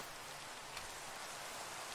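Minecraft rain falling as a continuous, dense hiss with no other sounds.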